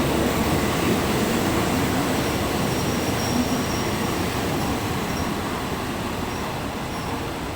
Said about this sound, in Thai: ขบวนรถต่อเทียบชานชลาทางที่ 1 เป็นขบวนรถเร็วที่172รับส่งผู้โดยสาร